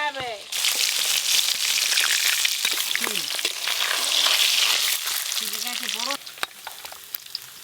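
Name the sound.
mangoes frying in oil left from frying fish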